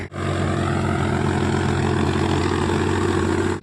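A tractor engine idles steadily up close, a loud, even low rumble with a rapid chugging pulse that holds constant throughout, with no voices over it.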